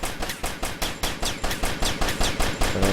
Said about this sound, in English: So shooting up the hull and the walls takes a lot of effort.